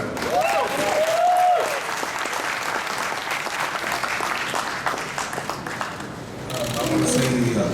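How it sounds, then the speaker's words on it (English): A large crowd at a boxing press conference bursts into loud, sustained applause with scattered cheers, a dense wash of clapping that swells again near the end. "a big round of applause for the president of Mayweather Promotions"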